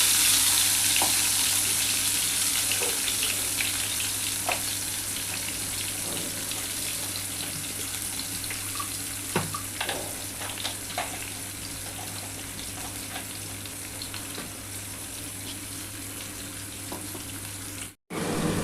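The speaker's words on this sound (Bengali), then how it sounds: "এই তেলের মধ্যে দেখো বন্ধুরা, এই যে রসুন আর টক দই একসাথে বেটে নিয়েছি, এটা দিয়ে দিলাম।" A garlic and sour yogurt paste hits hot oil in a pan, setting off a loud, continuous hissing sizzle that stays steady and close for the whole stretch, ending in a sudden brief cutout.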